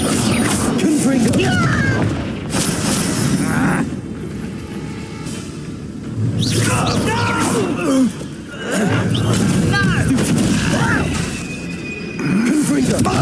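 Repeated Confringo blasting-curse explosions burst in Hogwarts Legacy as bangs and crashes with rumbling debris, layered over continuous combat noise and game sound effects.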